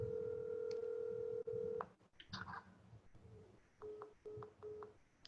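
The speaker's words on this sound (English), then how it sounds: "Do you want me to call her on her phone?" A cell phone call is placed during a library board meeting: a steady dial tone cuts off, then a series of short dialing beeps follow in quick uneven bursts, with faint room noise between.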